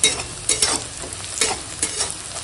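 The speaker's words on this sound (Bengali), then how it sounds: "পেঁয়াজটাকে ভেজে নিই" Onions fry in a pan for a spicy chicken dish, sizzling close up while a utensil scrapes and stirs in repeated rhythmic strokes.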